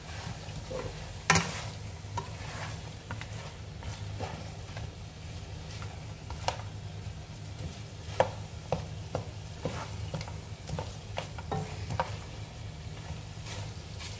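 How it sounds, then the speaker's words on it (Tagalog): Tomato paste being sautéed in a pan gives a quiet, steady sizzle, with scattered sharp clicks and scrapes of a utensil stirring against the pan at irregular intervals. "Saka ilagay na natin ang tomato paste para masali sa pagisa."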